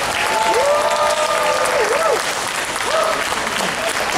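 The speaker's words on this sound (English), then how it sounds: "Give them a big round of applause." Audience applause at a Comic Con Q&A panel in San Antonio, a dense, steady roar of clapping that fills the whole stretch, with a few voices calling out over it.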